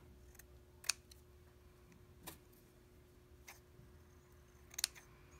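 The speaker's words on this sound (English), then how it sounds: "We're just going to trim all the excess mesh off." Scissors trimming excess mesh off a small chiffon headband flower: a couple of faint, sharp snips separated by quiet pauses over a low steady hum, close up, no talking.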